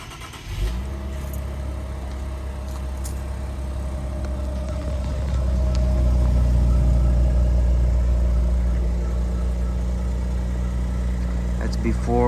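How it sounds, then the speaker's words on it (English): Audi Q SUV on its stock exhaust cold-starting outdoors early in the morning: a short crank, then the engine catches and settles into a steady, loud idle that swells slightly and holds. "It is 5:36 in the morning, and I'm gonna get a cold start in for you guys."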